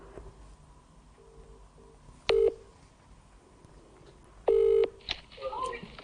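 Telephone keypad tones as a call is placed back: a couple of short, quiet beeps, then two loud, sustained dialing tones a couple of seconds apart, followed by faint handling noise.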